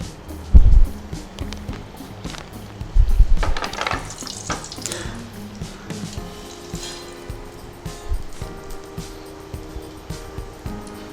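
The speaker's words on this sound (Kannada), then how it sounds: "ಈಗ ಎಣ್ಣೆ ಕಾದಿದೆ, ಒಂದೊಂದೇ ಹಾಕೋಣ." Karjikayi, a sweet filled pastry, dropped one at a time into hot oil: a couple of low thumps followed by continuous bubbling sizzle, moderately close, with no voices.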